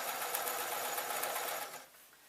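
Sewing machine stitching through fabric layers for a lined grab bag, a fast, continuous buzzing run close up that slows and stops near the end.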